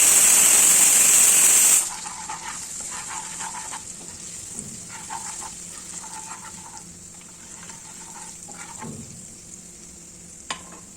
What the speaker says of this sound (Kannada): ಇದನ್ನೆಲ್ಲ ಸೇರಿಸಿ ಚೆನ್ನಾಗಿ ಫ್ರೈ ಮಾಡ್ಕೋಬೇಕು.